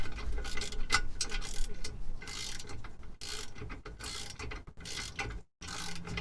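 A ratchet clicks in quick, close bursts while tightening the exhaust hangers on a twin-turbo Mustang, with brief pauses between runs of rapid mechanical clatter.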